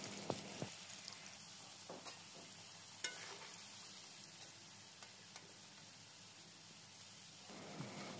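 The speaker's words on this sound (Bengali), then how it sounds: "এবার এর মধ্যে দিয়ে দেব সামান্য লবণ ও হলুদের গুঁড়ো দিয়ে আলুগুলোকে খুব ভালো মতো ভেজে নিতে হবে" Potatoes frying in oil with a little salt and turmeric, a faint steady sizzle with occasional soft clicks of stirring, quiet and close.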